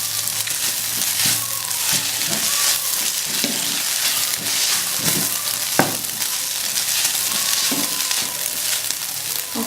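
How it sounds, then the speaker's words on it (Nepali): Egg being stirred into gundruk soup in a frying pan, a loud continuous sizzle with repeated close scraping and clacking from a stirring utensil, no voices. "अन्डा पनि एकछिन पाकिसकेपछि अब यसलाई गुन्द्रुकमा नै मिक्स गरेर चलाउने।"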